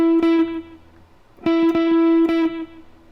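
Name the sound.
guitar lick from a solo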